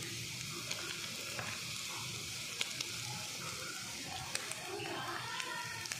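Beaten egg mixture with ground black pepper being stirred in a pan, faint soft scraping and light sizzle-like hiss at low volume, with occasional small clinks.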